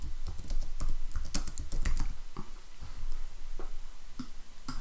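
Keys clatter on a computer keyboard in an irregular run of close, crisp taps and a few heavier keystrokes, with no voices.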